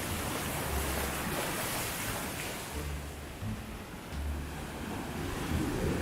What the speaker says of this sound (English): These waves might actually take me out, bro.